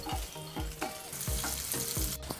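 Five or six cut green chillies fry in oil in a pan, a soft sizzle broken by a rhythmic series of quiet stirring scrapes, heard alone and fairly faint.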